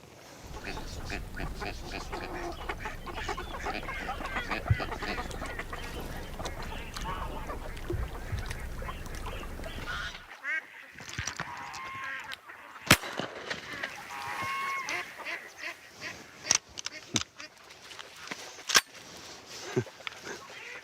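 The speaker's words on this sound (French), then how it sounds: "J'entends les appelants qui appellent" Goose-like honking and calls from decoy ducks ring out across open water from a hunting blind, steady at first, then sparser sharp calls and clicks over a quieter background.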